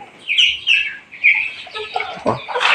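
Quails in a backyard pen give a few short, bright chirping calls in quick succession, close by with no talking over them.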